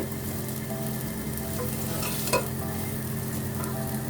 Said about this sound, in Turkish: Unumuz da biraz kavrulsun. Salçamı ilave ettim.